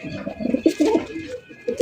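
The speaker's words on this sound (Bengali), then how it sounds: "এগুলো রেসার কবুতর ভাই" Racing pigeons at a farm coo in repeated low, throaty bursts, fairly close and moderately loud, with short pauses between calls and no talking.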